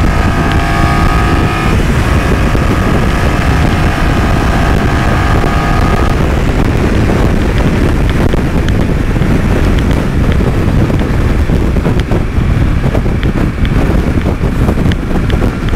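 A BMW F900XR parallel-twin motorcycle rolling on the throttle in 5th gear at about 100 km/h, a loud, steady engine drone buried under heavy roaring wind buffeting throughout, with no talk.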